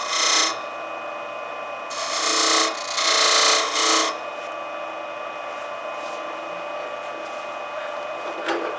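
Woodturning tool cutting a spinning wood pepper mill blank on a lathe, with a few loud raspy bursts near the start separated by a steady hum, then quieter continuous running.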